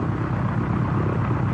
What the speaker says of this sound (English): 230 Marines are being loaded into Sikorsky HRSs for transport to an inaccessible mountaintop behind North Korean lines.